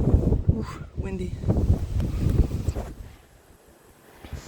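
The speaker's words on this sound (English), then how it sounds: "Ooh, windy." Gusty wind buffets the microphone in loud, rumbling bursts that ease off toward the end, with a voice briefly speaking over it.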